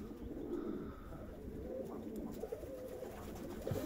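Pigeons cooing softly in a loft, low rolling calls overlapping against a faint background murmur, fairly close.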